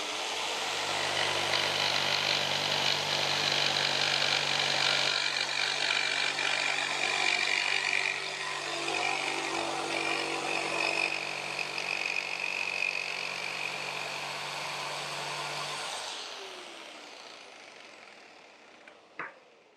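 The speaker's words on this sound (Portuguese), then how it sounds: "Vamos usar agora a nossa serra tico-tico para a gente terminar de fazer o acabamento." A jigsaw cuts through a wooden stair-step template with a steady, loud buzzing whine that holds for about fifteen seconds, then winds down and stops, ending on one small clunk.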